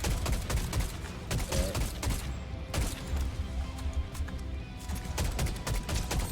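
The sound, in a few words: gunshots in Fortnite video game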